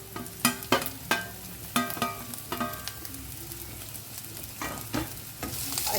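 Sweet corn, carrot and capsicum frying in oil for sweet corn soup, a low continuous sizzle punctuated by sharp spoon-on-pan clacks at uneven intervals, close and without talk.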